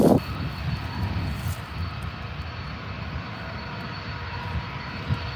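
A Malaysia Airlines A330 at Adelaide Airport runs its engines on the runway, a broad steady roar with a faint whine on top, heard from a distance with no voices.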